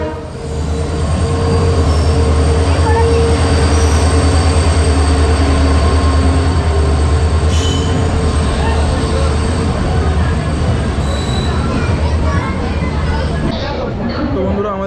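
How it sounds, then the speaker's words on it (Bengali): Padatik Express pulling out of New Jalpaiguri station, a loud continuous rumble of rolling wagons and rhythmic wheel clatter with occasional high squeals, steady throughout. "ট্রেন এক্ষুনি ছেড়ে বেরিয়ে গেল নিউ জলপাইগুড়ি স্টেশন"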